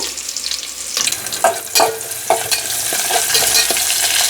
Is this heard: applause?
no